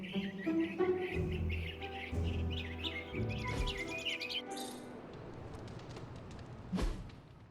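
Birds chirping and tweeting in a Marvel's Midnight Suns game scene, a string of bright, quick calls up close over a low ambient bed, tailing off into soft background noise.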